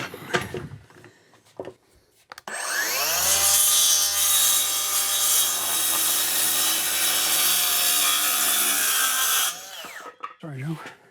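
A power saw cuts a 2 by 10 wooden board, starting after brief voices and running loud and close for about seven seconds before spinning down. A voice speaks again at the end.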